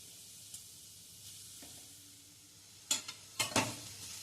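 Grated pumpkin sizzles gently in a little ghee in a steel wok over a low flame. Soft, quiet frying is broken near the end by a few sharp, close spatula scrapes and clanks against the pan.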